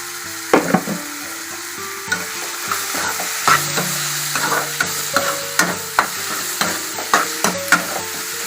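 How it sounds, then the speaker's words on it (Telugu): Chili powder, rock salt and tomatoes fry in a pan for a mushroom curry as a spoon stirs them, giving repeated scraping clacks against a steady soft sizzle, close and clear with no voices. "బాగా తిప్పుకోవాలి ఫ్రెండ్స్."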